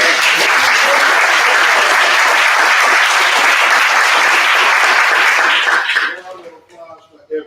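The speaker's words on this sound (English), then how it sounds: "Round of applause for everyone" An audience at a playwrights festival staged reading breaks into loud, dense applause for the performers, sustained for about six seconds before stopping abruptly, followed by a few faint sounds and voices.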